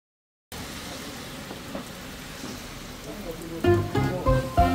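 Rain shower falling along the Tamhini Ghat road in Maharashtra, a steady broadband hiss of drops throughout, with people talking and louder rhythmic sounds building near the end.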